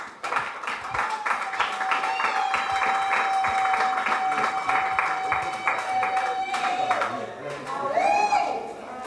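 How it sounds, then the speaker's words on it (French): An audience at a press conference breaks into steady, moderately loud clapping that carries on for several seconds, with a held tone and voices mixed in and a speaker resuming near the end. "peut-on encore une fois de plus applaudir?"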